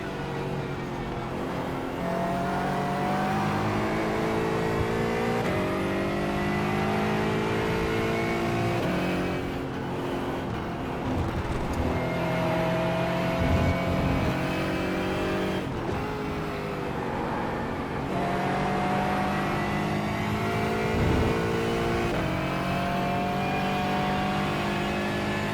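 GT4 race car engines at Watkins Glen in the iRacing game drone steadily, rising and falling through gear shifts and revs, loud and continuous for the whole stretch.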